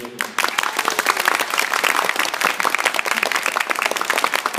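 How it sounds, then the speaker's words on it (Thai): An audience breaks into applause for Hajsamee, the performer, with dense, sharp clapping close by that starts abruptly and keeps a lively, uneven rhythm throughout. "วันนี้พี่ว่านขอเสียงปรบมือทุกคนให้ฮาชามี"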